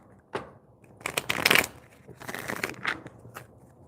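Oracle cards being shuffled by hand, a few quick riffling bursts with short pauses between them, close and fairly quiet with no talking.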